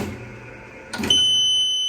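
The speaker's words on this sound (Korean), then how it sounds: "두 개 되면 정지가 되면서 부저가 울린다는 거." A nozzle vacuum band sealer stops and its buzzer sounds, a sharp steady electronic tone that begins after a brief burst of mechanical noise and holds alone for about a second.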